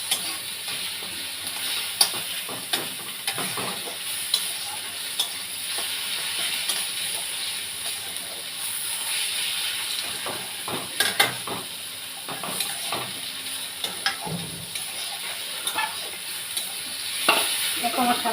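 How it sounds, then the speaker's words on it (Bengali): Leafy greens with a pinch of sugar sizzle steadily in a pan as a spatula scrapes and stirs in scattered clatters, with soft speech now and then in a home kitchen. "এখন আমার শাক ভাজা হয়ে গেছে"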